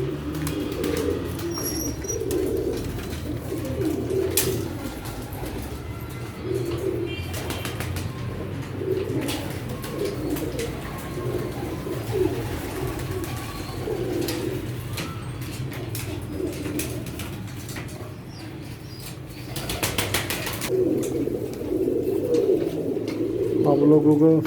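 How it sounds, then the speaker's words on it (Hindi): Sialkoti pigeons coo repeatedly in low, throaty calls close by in a room, with occasional bursts of wing flapping and a person speaking at times. "जोड़े वाले कबूतर हैं इधर"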